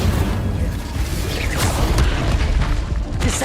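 Incendio fire spell cast in the video game Hogwarts Legacy amid other combat spells, a loud rumbling burst with crackling impacts and a few sharp hits layered over a continuous low roar.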